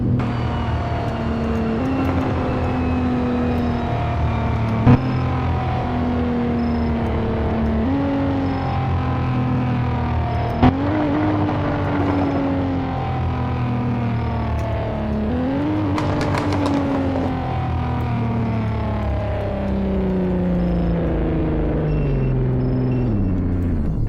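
A Nissan 370Z Nismo engine in a racing video game winds down through repeated downshifts, each gear change bringing a rev blip and then a falling drone, loud and steady throughout.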